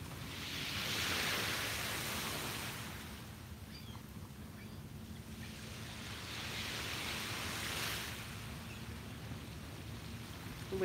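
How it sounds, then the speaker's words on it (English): Ocean waves wash onto a beach in steady broad surges that rise and fall in a slow rhythm, close and moderately loud, with no voices over them. "The waves sure do sound nice"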